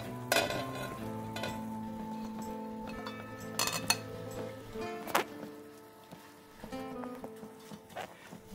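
Small-chopped onions added to a Bolognese sauce with salted pancetta, heard as a low simmer and stirring with occasional clinks of a utensil against the pot, close and moderately quiet.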